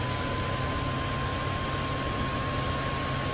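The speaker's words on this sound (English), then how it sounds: "You can tell exactly what the engine's doing at any time." Steady, even jet engine roar of an F-86F Sabre in the DCS flight simulator game, a constant broadband hiss and rumble with a thin whine, no voices.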